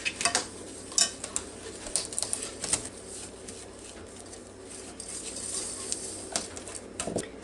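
A utensil scrapes and clinks around inside a pot while stirring cornstarch for a chocolate pie, with irregular taps and swishes close by, some sharper knocks at the start and end.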